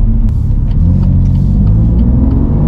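A BMW M2 Competition sports car with a loud, deep, steady engine rumble, droning close by with no talk.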